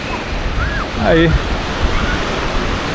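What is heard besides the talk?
gentle sea waves and light wind on beach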